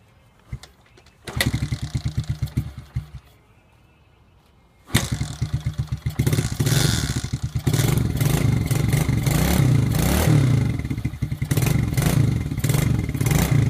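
An old Suzuki motorcycle, unused for a year, cranks in short clattering bursts, pauses, then catches and runs with a rough, uneven idle before settling into a loud steady engine drone close by.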